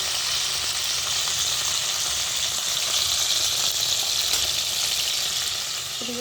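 Fish pieces frying in hot oil with diced potatoes seasoned with turmeric and salt added, a steady, close, continuous crackling sizzle throughout with no talking.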